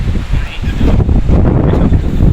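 Strong wind gusts roar across a microphone by the sea on a rough-weather fishing outing in Abu Dhabi, a loud broadband rush with waves in the background, steady throughout with a brief lull early on.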